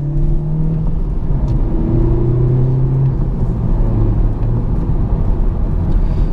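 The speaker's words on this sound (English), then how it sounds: "let me just accelerate here a little bit" A car engine pulls steadily under acceleration, not too hard, a loud continuous rumble with rising tones and road noise throughout, no voices.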